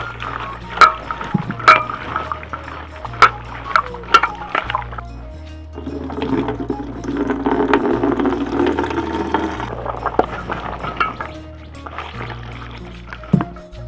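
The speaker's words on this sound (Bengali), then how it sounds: "জল দিয়ে ধুয়ে নেব" Chopped papaya is washed in water, with sloshing and splashing in a bowl and sharp knocks and clinks of the container throughout.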